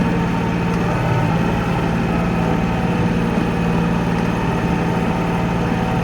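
A tractor engine runs at a steady low rumble during a Vermont snowstorm, loud and close, with wind noise and no talk.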